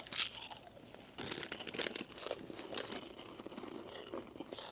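Close, crunchy munching and chewing of snacks during a rest on a solo mountain hike, with crinkling packaging and bites repeating steadily and no talking.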